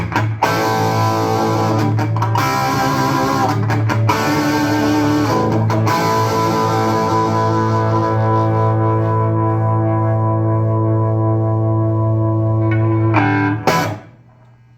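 A loud, overdriven Ibanez electric guitar rings out through a vintage Marshall JMP 1959 amp with no pedals, in sustained chords, with a few brief breaks before the final chord cuts off and fades.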